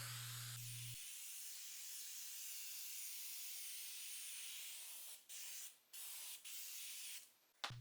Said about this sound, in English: start applying a nice hefty amount of our spray